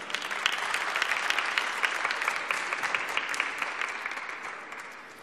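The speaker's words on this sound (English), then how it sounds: "I ask you for a round of applause for the entire panel." Sustained audience applause for a conference panel at a sustainability forum, a dense wash of many hands clapping at steady volume before gradually tapering off near the end.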